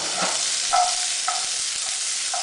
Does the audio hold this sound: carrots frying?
yes